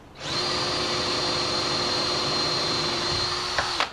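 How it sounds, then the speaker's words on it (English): A power drill drilling through wood whines steadily at high speed for several seconds, loud and close, then winds down abruptly at the end. "once it gets a little bit easier to drill through, that means you went the whole way through"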